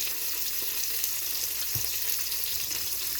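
Meat browning in an Instant Pot, with a steady close sizzle and frying crackle and a faint stir or scrape now and then, alone without talk.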